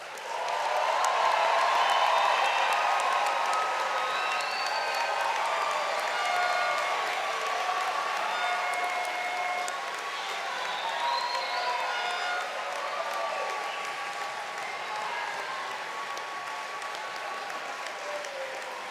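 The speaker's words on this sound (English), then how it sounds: "giving all the new doctors a well-deserved round of applause?" A graduation ceremony audience for new doctors applauds in sustained, dense clapping with a few cheers, loud and steady for the whole stretch, easing slightly toward the end.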